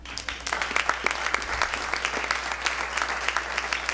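An audience honoring graduating seniors applauds politely: scattered, separate golf-style claps at moderate distance, sparse and uneven rather than a full ovation, with no one speaking.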